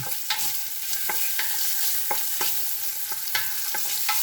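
Meat frying hard in a pan alongside rutabagas and turnip greens, a continuous close sizzle punctuated by regular scraping taps of a spoon or spatula stirring, with no talking.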